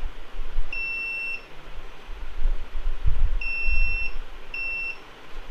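A multimeter continuity tester beeping while probing a Lenovo Y560 laptop motherboard: three short, clear tonal beeps, one early and two close together later, over faint handling noise and soft bumps.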